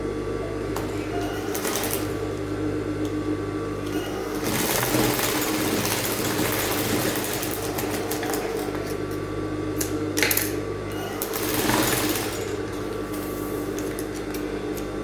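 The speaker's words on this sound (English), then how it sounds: "I'm going to sew it down this way. I'm still following the lines." A sewing machine runs steadily, stitching fabric along marked lines for a basket weave design. The mechanical whir holds at an even level throughout, rising slightly in a few short bursts.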